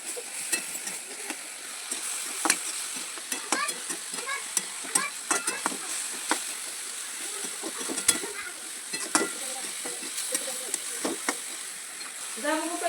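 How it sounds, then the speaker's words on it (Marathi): A spoon scrapes repeatedly around a frying pan of masala for anda ghotala, a Mumbai street-style egg dish, in quick, uneven strokes over a constant soft sizzle. "मसाला आहे ना व्यवस्थित परतून आहे ना मिक्स करून घेऊया"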